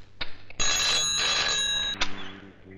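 A phone rings with a bright trilling tone, broken into short bursts with clicks between, close by and fairly loud.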